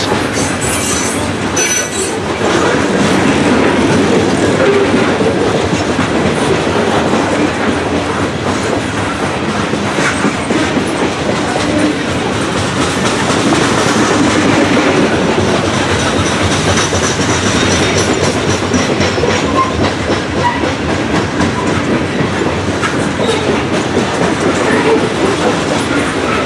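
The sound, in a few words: freight train passing with diesel locomotives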